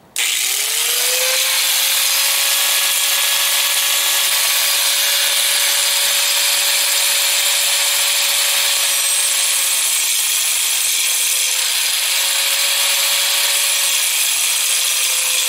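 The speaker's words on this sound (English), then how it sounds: "Bit more grinding on him." A power grinder spins up and cuts steadily into a steel trailer hitch for a Harley Sportster, a loud continuous whining grind with a steady tone, close and alone for about fifteen seconds.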